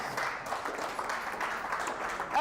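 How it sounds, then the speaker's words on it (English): Audience applause at a talk on creating financial security, a dense, steady wash of many hands clapping at moderate level throughout, with no voices standing out. "Can you give that a round of applause?"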